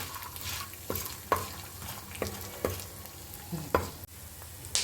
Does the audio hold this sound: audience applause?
no